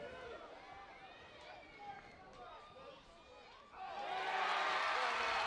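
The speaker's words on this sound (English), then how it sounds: "And you hear the crowd, the Stanford partisan crowd," A partisan Stanford crowd at a college softball game against Florida State murmurs under an announcer's commentary, then erupts into loud, sustained cheering that fills the final seconds.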